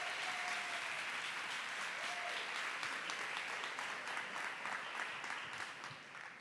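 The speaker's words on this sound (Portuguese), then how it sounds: "Pode aplaudir, pode aplaudir." A church congregation applauds loudly during a sermon, a dense, sustained wash of clapping from many hands that holds steady before tapering off at the end, with a brief voice faintly audible beneath it.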